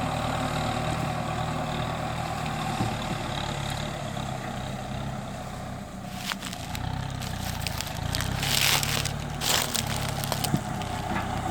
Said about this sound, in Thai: วันนี้พามาดูเครื่องคีบของนาซานะคะ